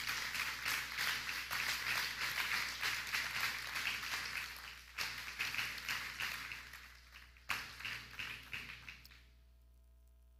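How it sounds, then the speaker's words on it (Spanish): A church congregation applauds during a service on the Lord's Supper. Dense, continuous clapping from a crowd carries on for several seconds, then thins into scattered claps and fades out near the end. "Dale un fuerte aplauso al Señor."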